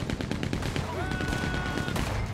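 Rapid automatic gunfire from a Gatling gun rattles in a Red Dead Online firefight, a dense stream of sharp bursts with a tonal whine running through the middle, loud and close throughout.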